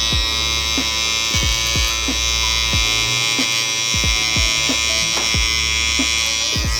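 An electric hair trimmer at a barbershop in Kamakura works around the ear, giving a steady, close, loud buzz with small clicks and pitch dips as it touches the skin. No one speaks.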